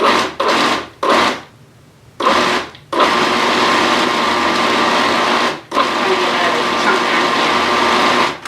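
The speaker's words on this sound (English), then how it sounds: "that stopping and starting of the pulsing will help to mix the meat a little bit better when it's full" A food processor pulses meat for gyros in bursts: several short whirring runs with brief gaps early on, then a long sustained grinding spin that stops once and restarts, loud and close.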